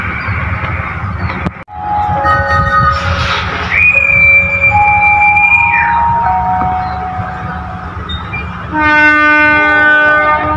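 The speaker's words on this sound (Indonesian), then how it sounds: "kereta api Pasundan Lebaran sudah masuk dan berhenti di jalur 2 stasiun Maos." The Pasundan Lebaran passenger train rumbles into Maos station, Indonesia, with long, sustained horn and whistle tones sounding one after another, a sharp clunk early on, and heavy rolling noise throughout.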